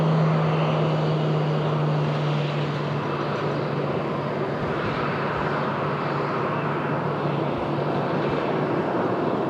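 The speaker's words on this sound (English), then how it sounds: "Our 737-700 here from Santa Ana turning out right in front of us." A Boeing 737-700 airliner taxiing out at an airport, a loud steady jet engine roar and whine held close by, with a faint tonal hum early on and no voices.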